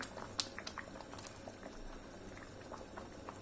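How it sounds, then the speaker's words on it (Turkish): Tomato sauce in a pot boils and spatters, with soft bubbling and sharp little pops and spits that come thickest at the start, then settle into a quieter, steady simmer without any talk. "Domates sosumuz kaynamaya devam ediyor. Bu arada sıçramaya başladı."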